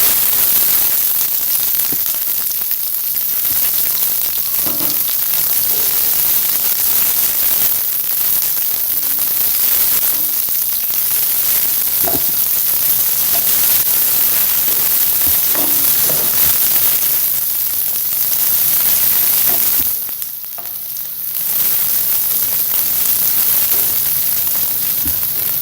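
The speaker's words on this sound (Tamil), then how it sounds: "எண்ணெய் காஞ்சிச்சு. இப்போ நம்ம இதில் வெங்காயம் போட்டுக்கலாம்." Chopped onions sizzling in hot oil in a pan while cooking macaroni pasta, a loud dense crackling hiss that continues steadily, with a brief dip near the end.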